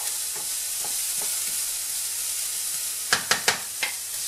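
Food sweating in a pan with a steady soft sizzle throughout, broken near the end by a few sharp clicks of a utensil against the pan.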